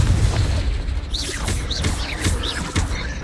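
A Confringo fire spell bursts in the Hogwarts Legacy video game, a loud, booming explosion followed by crackling blasts and whooshing magical effects layered over a continuous rumble, with no voices.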